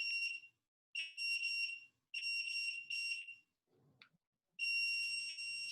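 An electronic camera flash unit gives several shrill, steady high-pitched beeps, each lasting up to about a second, with short silences and one faint click between them, heard close and alone.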